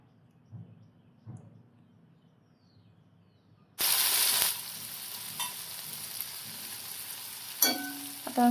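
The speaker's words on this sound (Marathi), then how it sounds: "आता ह्याच्यामधल्या सर्व भाज्या आणि कांदा पण छान तळलेला आहे." Vegetables and onion fry for sambar in a hot pan, a loud close sizzle erupting suddenly after quiet stirring taps and then holding steady with occasional sharper crackles.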